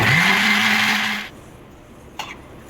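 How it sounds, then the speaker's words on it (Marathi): An electric mixer grinder whirs loudly while grinding raw mango chutney, spinning up and holding a high whine for about a second before it cuts off, then a brief clatter follows in the quiet. "आता आपण हे सगळं मिक्सरमध्ये वाटून घेऊ।"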